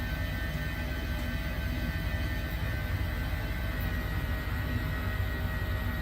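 Airbus H145 helicopter in Microsoft Flight Simulator, with its rotor and turbine engine giving a steady, dense mechanical drone that holds at an even level throughout with no talk.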